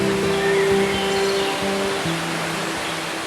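Thansawan Waterfall in Satun, Thailand, a large waterfall with a wide falling curtain, heard as a steady, dense rush of water that stays even throughout, with faint tonal hum underneath and no voices.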